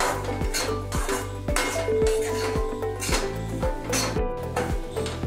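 Amaranth flour is stirred in a metal pan for a fasting sheera: a steady, close series of scraping and clinking strokes of a spoon against the pan, repeating roughly every half second.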